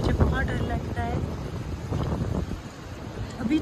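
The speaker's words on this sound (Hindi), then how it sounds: "ये देखिए बहुत तेज हवा आ रही है और थोड़ी बारिश भी शुरू हो गई है" Strong wind gusts through the UAE during a night storm with light rain beginning, a steady roaring rush buffeting the microphone, with a voice speaking faintly within it.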